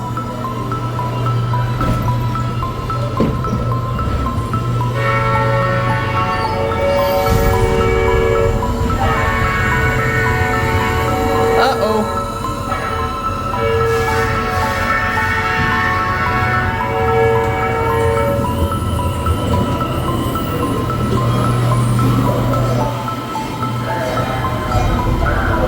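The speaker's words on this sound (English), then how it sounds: "Railroad crossing, oh no." A train rumbles past a crossing with a steady low roar, while tonal warning signals and a horn-like tone ring above it.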